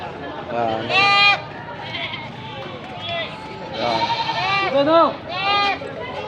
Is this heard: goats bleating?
yes